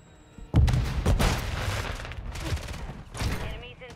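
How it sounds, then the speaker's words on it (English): A Semtex grenade blast in Warzone booms up suddenly near the start, with a heavy low-end thump, followed by continued gunfire and rumbling combat noise, while a voice speaks over the action. "Throwing Semtex."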